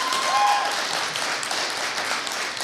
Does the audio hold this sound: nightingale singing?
no